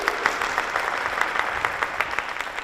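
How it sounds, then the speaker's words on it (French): At a high school trophy ceremony, an audience applauds as three candidates arrive: a steady, moderately loud wash of clapping with scattered sharper claps throughout. "Sous vos applaudissements, mesdames et messieurs."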